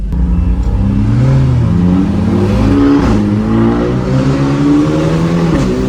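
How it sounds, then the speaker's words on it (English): A Hyundai Elantra N engine revs up and down in loud, rising and falling surges as the exhaust warms up, close by and continuous, with no talking. "We gotta warm up the exhaust."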